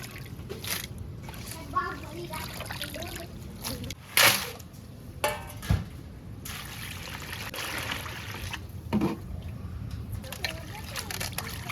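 Water sloshes and splashes in a container as prawns are rinsed by hand, with intermittent clatter and people talking over it.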